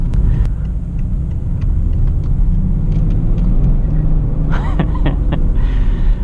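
A BMW E61 530d diesel estate with a manual gearbox pulls hard in second gear at full throttle, a deep steady engine rumble heard from inside the cabin, with a few clicks and knocks near the end.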